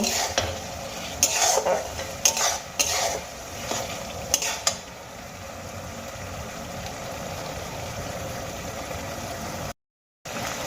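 Tomatoes with dry spices being stirred in a pan, with a few sharp scraping clatters of the spoon early on over a constant low sizzle, and then a brief dropout near the end.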